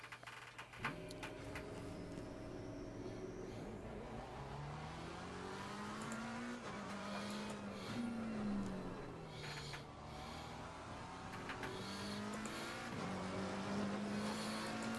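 A race car engine in Assetto Corsa Competizione rises and falls through gear changes while lapping at speed, its pitch climbing and dropping continuously under a steady wash of road and tire noise.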